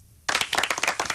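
A brief burst of clapping from a small studio audience starts abruptly and continues as a quick, uneven patter of hands for about a second.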